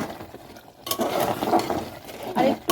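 Mutton liver is stir-fried in oily masala in a pan, with a short burst of sizzling and scraping, stirring clinks and rustles rising after a quiet start and pulsing with each stroke.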